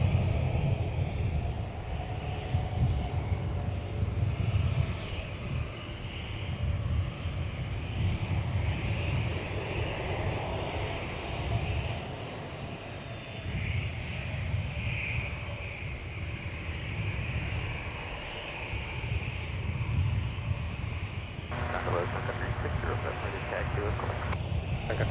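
A Delta 756 airliner taxiing at MSP airport before departure from runway 30 left makes a low, steady engine rumble and roar, with a brief mechanical rattle toward the end and no talk heard.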